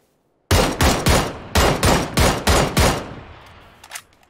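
Gunfire in PUBG: a rapid burst of about eight loud, close shots in quick succession, followed by fading echoes and a fainter distant shot.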